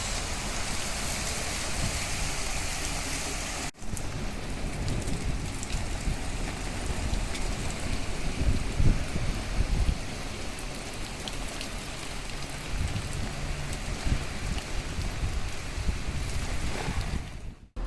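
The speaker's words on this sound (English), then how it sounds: "It is currently raining outside, literally right behind the camera." Steady heavy rain pours down close by, a dense constant hiss with scattered drops spattering on surfaces, and no voices.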